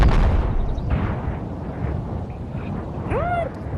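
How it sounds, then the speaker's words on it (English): A booming RPG explosion in a video game opens loud with deep rumbling debris that decays over several seconds, followed by a rising whistle-like effect near the end. "since the explosions are different,"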